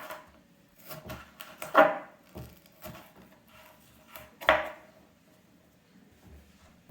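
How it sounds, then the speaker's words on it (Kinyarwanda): Yellow and red bell peppers being chopped into small pieces on a board: irregular knife taps, two of them louder and sharper, with quiet kitchen background and no speech. "Ndazikata mo uduce dutoya nk'uko mubibona aha ngaha."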